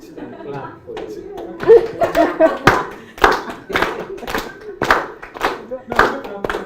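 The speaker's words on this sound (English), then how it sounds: "Clap for it." A group of people clapping hands together in a loose beat during a training session, uneven sharp claps with chuckles and talk around them.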